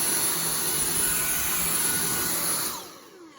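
A cordless vacuum cleaner runs at max power with a loud, steady high-pitched whine and rushing airflow, then spins down and fades near the end.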